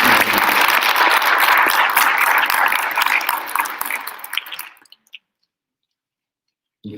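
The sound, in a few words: audience applause for orchestra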